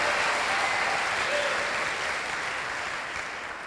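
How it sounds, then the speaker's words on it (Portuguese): A church congregation applauds, a broad, sustained roar of clapping that fills the room and eases off slightly toward the end. "Pode aplaudir mais forte a Jesus"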